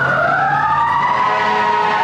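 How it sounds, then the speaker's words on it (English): Fire engine siren wailing on a Los Angeles street, a loud rising and falling tone sweeping past nearby over traffic, with no talk. "Let's wait on the fire engine there. It's gonna get louder."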